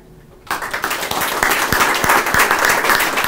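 Audience applause at the opening ceremony of a hospital trauma resuscitation suite swells in after a brief quiet moment, becoming a dense, sustained wash of many hands clapping close by.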